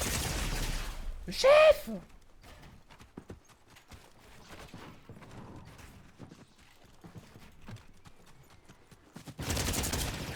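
A gun rattles off rapid bursts of many bullets in the Star Wars season of the Fortnite video game. Dense, fast shots cluster near the start and end, with lighter clicking between, while someone talks excitedly over it.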